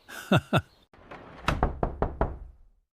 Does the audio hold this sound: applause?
no